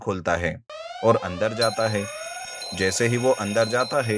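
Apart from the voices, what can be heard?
alarm ringing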